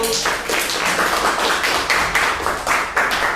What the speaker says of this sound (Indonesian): Silakan berikan tepuk tangan yang keras untuk kelompok 1.